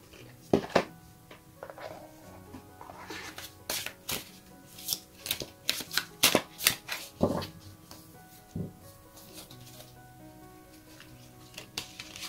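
Tarot cards are shuffled up close in a series of soft, irregular slaps and riffles, which gradually thin out toward the end.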